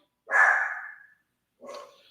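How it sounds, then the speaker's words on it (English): A dog barks twice close up, one long loud bark and then a shorter second bark, with silence between and around them. "I don't know why my dog's gone nuts"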